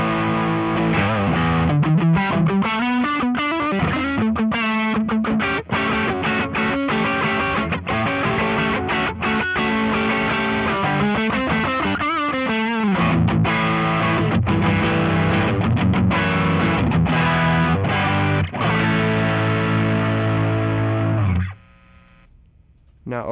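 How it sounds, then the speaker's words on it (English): Electric guitar run through a Fractal amp modeler with the gain maxed, heavily distorted and saturated, played continuously and loud for about twenty seconds before cutting off abruptly. "Gonna max out the gain on the Fractal just to hear how that sounds."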